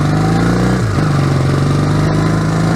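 A Honda CB 450 DX motorcycle engine heard while riding: a loud, steady mid-pitched drone up close, with a brief pitch drop around a gear change before settling back into an even hum.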